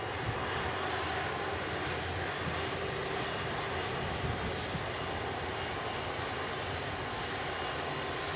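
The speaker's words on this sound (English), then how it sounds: "we also have another stunning A330 taxiing past our position here" An Airbus A330 taxiing past at Manchester Airport gives off a steady, loud broadband jet-engine roar that holds constant throughout, heard from a nearby outdoor spot.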